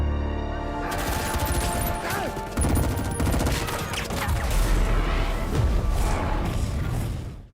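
A burst of gunfire erupts in a tense action scene from the Indonesian film Blood Brothers (Tumbal Pengkhianatan): loud, dense volleys of shots and booms rattle on for several seconds, layered with crashing movie sound effects.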